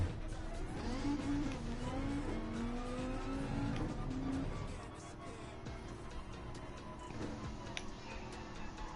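Worn-out tyres squeal on a car in a racing video game, a steady engine drone with a sustained, wavering squeal through the first half that then eases off.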